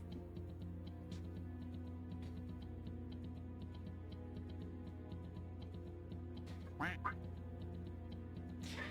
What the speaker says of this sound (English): We have a quack redeem.